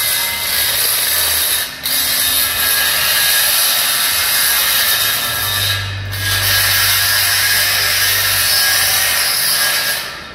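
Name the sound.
reaming powder coating out of steel frame pin holes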